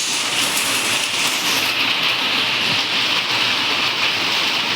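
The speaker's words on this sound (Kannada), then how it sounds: "ಫುಲ್ ಆಣಿಕಲ್ ಮಳೆ ಆಗತ್ತೈತಿ." Heavy rain with hail falls in a constant, loud, dense hiss that fills the whole stretch with no breaks and no voices.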